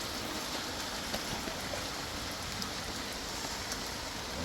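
Steady rain falls outdoors in a snowy mountain setting, a constant broadband hiss with faint scattered drop taps, even and close throughout with no voices.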